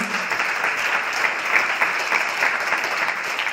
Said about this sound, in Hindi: बिल्कुल सही जवाब, आपके लिए जोरदार तालियां